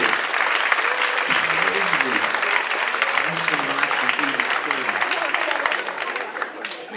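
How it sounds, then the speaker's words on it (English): Sustained, dense applause from an audience at a college hypnosis show fills the room for several seconds, with a voice speaking over the clapping. "give him a round of applause"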